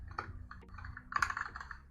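Quick, irregular clicks of typing on a computer keyboard while writing code in Unity, close and fairly quiet, with a brief burst of faster keystrokes midway.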